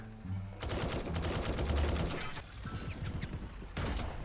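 Rapid automatic gunfire in the Roblox War Tycoon game, dense bursts of shots rattling close and loud, with a short pause before another burst, no talk.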